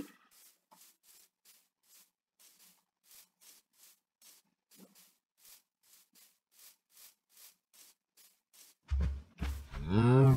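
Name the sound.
cattle mooing on a farm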